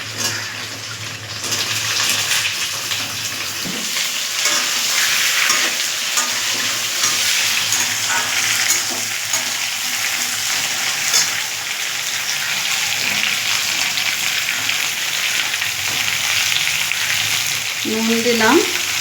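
Pointed gourd frying and being stirred in a pan alongside half-fried fish in oil: steady loud sizzle throughout with scraping stir strokes, no talk.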